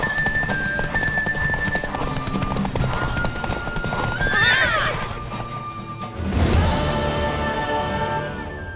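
Rapid hoofbeats of a galloping horse in The Witcher 3 video game, with a horse whinnying partway through, over a busy, steady background mix.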